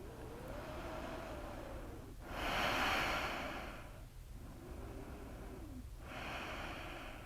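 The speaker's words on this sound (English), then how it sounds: "Let's take 2 more breaths" A person in a yoga flow takes slow, deep breaths close and quiet, two long audible exhales drawn out through the nose between softer inhales, with no talking.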